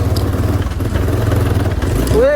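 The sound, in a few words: motorcycle engine straining uphill on a rough road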